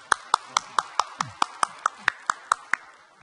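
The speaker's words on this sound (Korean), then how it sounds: "박수 한번 보내주십시오" Applause from a studio audience comes as about a dozen sharp, evenly spaced claps in a steady rhythm, loud and close, with no other sound between them.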